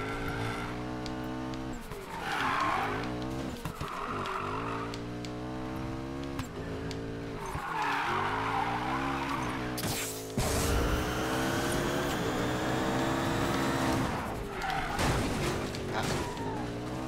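Racing cars in Need for Speed Payback rev and skid through a corner, engines droning steadily with tire squeal and a sharp crash-like burst midway, while someone talks over the game sound.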